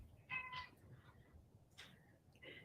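A cat meows several times indoors, a clear first mew followed by softer, shorter calls, quiet and close in a calm room.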